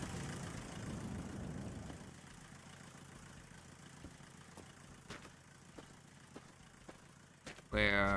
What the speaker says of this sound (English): Engine sounds very strange.